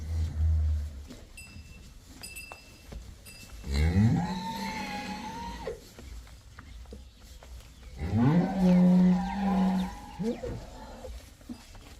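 Cows on a dairy farm selling crossbred milking cows give two long, loud moos, one about four seconds in and a longer one near the end, with quiet outdoor background between them.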